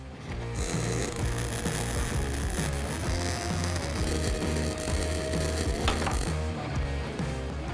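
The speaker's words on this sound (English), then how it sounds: "So we're going to start with MIG, and we'll switch over to TIG as well," MIG welding on 3/16 steel plate makes a dense, continuous crackling buzz that stays close and steady for the whole stretch, with faint mechanical clicks underneath.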